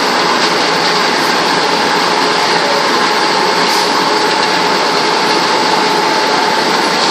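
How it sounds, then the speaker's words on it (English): A color mixer machine runs steadily in a small cottage cable making plant, a loud, constant whirring hum with a high-pitched mechanical whine and no change throughout, no talk. "That's a color mixer."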